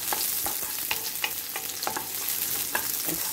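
Garlic fries in hot oil with a constant close sizzle, broken by the regular scraping taps of a spatula being stirred through the pan.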